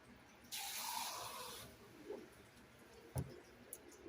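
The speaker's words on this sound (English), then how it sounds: "and I'm just going to add some water." A tap briefly fills a small cup holding tomato seeds and pulp, a short burst of running water for about a second, followed by quiet handling knocks.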